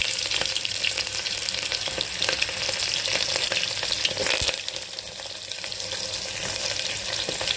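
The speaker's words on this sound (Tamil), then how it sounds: "கடுகு போட்டு வெங்காயம் மிளகாய் போட்டுக்கலாம்." Onions and chillies frying with mustard seeds in hot oil for Erode uppu paruppu, a loud continuous close sizzle with scattered crackles and a few stirring scrapes.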